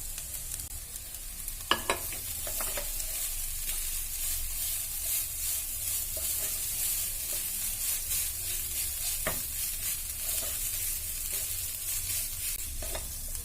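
Crushed chicken frying in a pan with cooked potato nearby, a steady close sizzle with occasional sharp clicks of stirring throughout, no talk.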